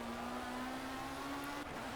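Race cars roar in the Project Cars video game on the Nürburgring, a steady sustained engine drone at high revs with a constant tone, briefly dipping near the end.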